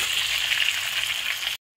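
Potatoes for aloo posto sizzle steadily in hot oil in a pan, a close, even frying hiss that ends abruptly.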